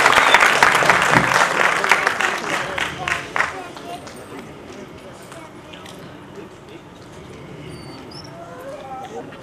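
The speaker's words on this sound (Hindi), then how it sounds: "एक बार जोरदार तालियां आपके सम्मान में।" Audience at a felicitation ceremony clapping loudly at first, a thick burst of many hands that fades over a few seconds into scattered claps and quiet room murmur.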